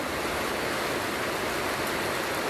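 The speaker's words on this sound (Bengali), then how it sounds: "আজকে হঠাৎ বৃষ্টি শুরু হয়ে গেছে" Sudden rain falls outside a balcony, a continuous even hiss of dense broadband noise without breaks or voices, moderately loud throughout.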